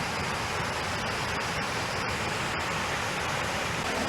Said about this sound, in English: Listen to those waterfalls.